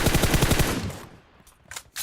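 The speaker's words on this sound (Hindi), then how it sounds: "मैं दबा दब प्री फायर देना चालू करता हूँ" Rapid video game gunfire pre-firing at a spot where an enemy sits: a loud, even burst of close shots for under a second, then near silence broken by a couple of faint clicks.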